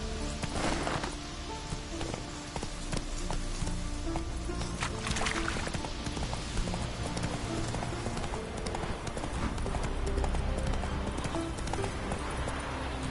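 Horse hooves clip-clopping steadily at a gallop in The Witcher 3, close and continuous over a constant game ambience, with occasional faint splashing and no speech.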